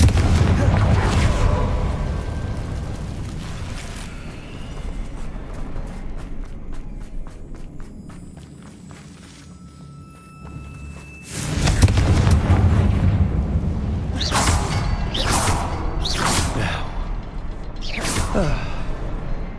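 A Confringo fire spell in Hogwarts Legacy bursts with a loud whooshing blast, then repeated booming impacts amid game action and footsteps, with voices talking over parts of it.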